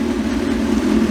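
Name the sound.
Kawasaki Ninja 636 motorcycle engine idling after starting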